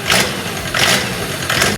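A Mercedes OM605 diesel engine runs outside of the car, a loud, rough mechanical clatter with rhythmic pulses repeating roughly every three-quarters of a second.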